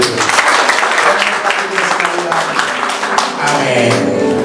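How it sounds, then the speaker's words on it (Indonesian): A congregation claps during a Sunday church worship service, loud, steady applause filling the room with voices mixed in throughout. "Tepuk tangan bagi Tuhan."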